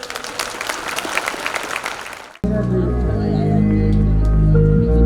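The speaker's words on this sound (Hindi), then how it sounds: "एक बार जोरदार ताली दे दें।" An audience at an ashram birthday satsang claps loudly for about two seconds, a thick crowded patter that cuts off abruptly into sustained music.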